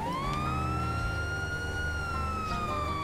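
A police car siren from the GTA5 LSPDFR sheriff patrol mod wails in a steady, slowly rising tone, loud and close, holding continuously with a low engine drone underneath and no talking.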